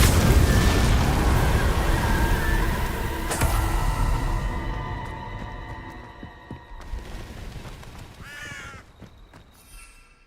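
A Confringo fire spell bursts in Hogwarts Legacy, giving a loud, dense blast that fades slowly across several seconds, with a sharp crack partway through and a few smaller pops near the end.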